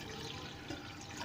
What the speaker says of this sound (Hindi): इसमें पानी जो है नाज़रीन, ये मैं 2 गिलास इसमें शामिल कर रहा हूँ